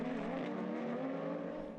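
A race car passes on a circuit during a race, its engine a steady buzzing drone at moderate distance, with no voices over it.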